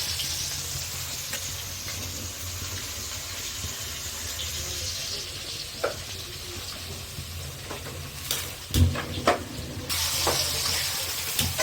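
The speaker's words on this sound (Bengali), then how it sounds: "পেঁয়াজগুলো ভালো করে ভেজে নেব" Onions frying in a pan for a Pahadi chicken curry, a steady close sizzle and crackle running throughout, with a few sharper clinks and stirring knocks near the end and no voices.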